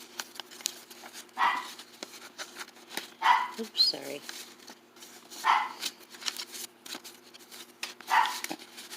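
Small bursts of dog barking, about four separate barks spaced a couple of seconds apart and heard from some distance, alongside paper rustling and page flipping as someone speaks briefly.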